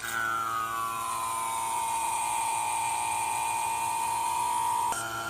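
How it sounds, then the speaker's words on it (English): A vacuum pump evacuates the A/C system of a Honda Civic, a steady close-up mechanical whine with a slowly falling pitch, running continuously until a brief click near the end. "attach this tube to the high pressure port and start pulling the vacuum"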